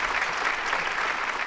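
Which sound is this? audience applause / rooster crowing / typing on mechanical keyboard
audience applause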